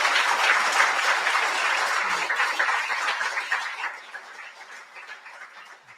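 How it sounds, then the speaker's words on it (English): An audience at a ceremony marking the 50th anniversary of the Edmund Fitzgerald sinking gives a round of applause for Sarah. The clapping is full at first and then thins and fades toward the end. "Let's give Sarah a round of applause"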